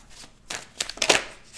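A deck of tarot cards being shuffled by hand for a reading, a few soft riffling bursts close by, the busiest in the second half, with no voice.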